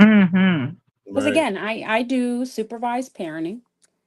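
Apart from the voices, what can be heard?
None of the usual background noises is heard.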